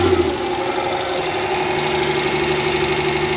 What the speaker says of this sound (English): That engine sounds horrible.